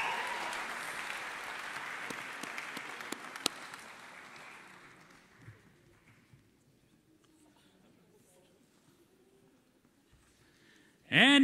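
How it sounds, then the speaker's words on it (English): An awards-night audience at the Virginia Tech Gobbler Athletic Awards applauds the event advisors, a broad wash of clapping that slowly fades to near silence before a sudden loud burst at the very end. "Let's give the biggest round of applause of the night for Natalie and Shelby, the advisors for Virginia Tech SAC"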